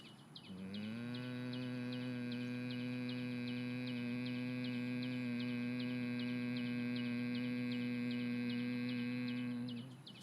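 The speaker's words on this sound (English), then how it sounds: "And with the exhalation, make a sound of hum." A person hums a long, steady nasal tone on a single slow exhalation for humming bee breath yoga practice, close and even in volume from start to finish.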